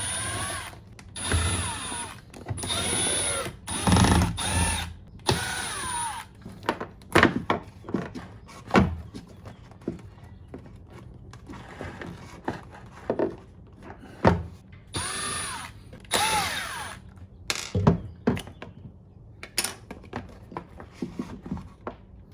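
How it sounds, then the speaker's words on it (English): Panel screws being backed out with a power driver on a Humminbird Mega Live fishing sonar install, giving repeated short whirring bursts with clicks and knocks between them, close and fairly loud with pauses in between. "I'm gonna take off this panel, access all these things inside there. Take off these screws here."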